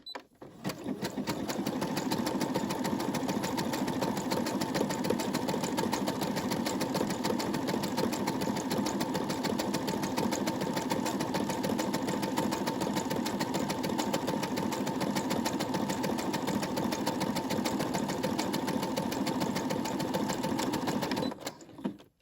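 A home sewing machine runs slowly and steadily, stitching a small fabric key fob, with a loud continuous mechanical whir and rapid needle clatter that holds for about twenty seconds with no talking.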